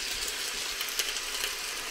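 Onions sizzle in hot oil in a cooking pot, a soft, steady crackling hiss with small pops, faint and continuous with no voices.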